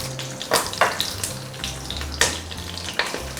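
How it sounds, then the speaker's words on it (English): Cinnamon, cardamom, cloves and bay leaves fry in hot ghee with a steady sizzle, broken by several sharp pops and spits. The sound is close, moderately quiet and continuous, with a low hum under it. "heat the ghee or oil and then add in the cinnamon, cardamom, cloves and bay leaves and fry this"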